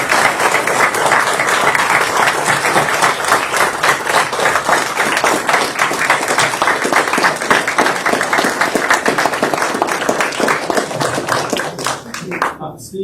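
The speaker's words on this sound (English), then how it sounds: "let us give Steve a round of applause" A council meeting audience applauds Steve, dense steady clapping filling the room for about twelve seconds before tapering off at the end, with some voices mixed in.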